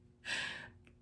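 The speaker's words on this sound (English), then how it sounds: "Go ahead and take another deep breath in" A single deep inhale, a breathy rush of air lasting about half a second, close and clear against a quiet background.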